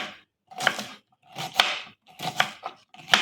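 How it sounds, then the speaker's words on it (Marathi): Shevla, a wild leafy vegetable, chopped finely with a knife on a board: four short bursts of crisp, close cutting strokes, separated by brief silences, with no talking. "आता ही आपण भाजी ना बारीक बारीक चिरून घ्यायची"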